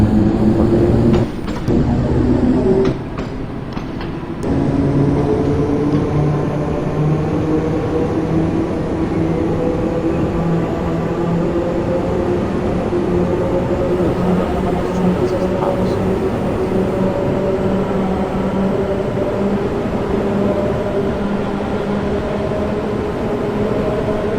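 A London Underground Bakerloo Line train in the Train Sim World 2 video game runs with a loud, steady rumble and rising whine, with door or mechanical clunks near the start and a voice talking over it.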